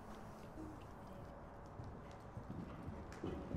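A ridden horse approaching a gymnastics jump row in show-jumping training, its hooves giving faint, fairly distant rhythmic thuds over a low rumbling background.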